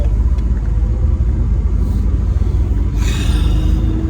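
A car driving on the commute to work, with a loud, continuous low engine and road rumble that stays steady throughout.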